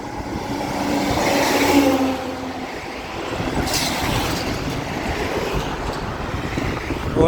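Heavy road traffic rumbles steadily near a bridge over a water canal, a continuous broad wash of passing vehicles with a swell around the second and a brief hiss midway, heard without speech.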